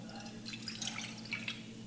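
Water pours steadily into a saucepan, 150 ml measured out for a guava dessert, a continuous close splashing trickle with no talk over it.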